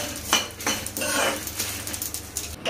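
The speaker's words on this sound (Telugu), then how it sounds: "లాస్ట్లో గసగసాలు వేసుకొని వేయించుకోవాలి" Poppy seeds fry in a pan during spice roasting for Telangana mutton curry, with a utensil scraping and clinking against the pan in quick irregular strokes, close and fairly quiet, no voices.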